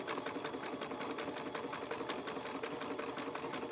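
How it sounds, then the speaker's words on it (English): A sewing machine with a jeans needle runs a steady zigzag stitch through rope and fabric, a continuous fast mechanical whir with even rhythmic ticking, close and alone. "I have more than one sewing machine"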